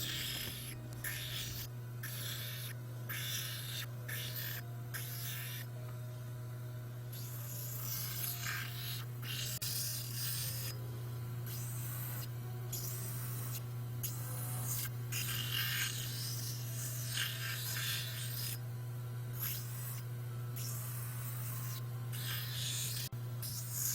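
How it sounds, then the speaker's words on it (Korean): A tabletop eyeglass lens grinder grinds the edges of cut colored glass pieces with a steady motor hum under repeated gritty scraping bursts as the glass is pressed on and lifted off, with no talking. "안경용 그라인더를 사용할 수 있는 것부터 먼저 갈아 보겠습니다"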